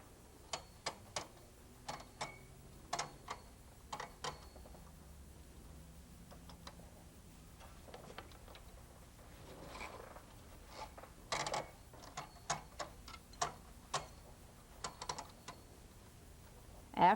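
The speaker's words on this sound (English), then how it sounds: "you will rip up the row of knitting." Threads of a row of knitting being ripped up on a punch card knitting machine, giving sharp, irregular clicks and ticks close by, with brief pauses between bursts and no talk.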